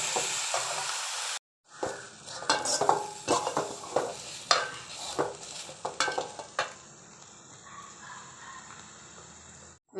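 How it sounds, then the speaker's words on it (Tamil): Ridge gourd is stirred and sautéed in a pan, with a close, rhythmic series of spatula scrapes and clinks over a soft sizzle, followed by a quieter frying hiss. "நல்லா வதக்குங்க. அந்த பச்சை நிறம் போகிற அளவுக்கு நல்லா வதக்கிக்கணும்."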